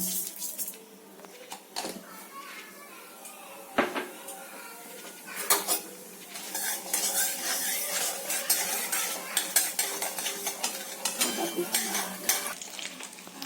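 A spoon stirring greens and moong dal in a frying pan, with scraping and metal knocks against the pan over a steady sizzle, close and busy.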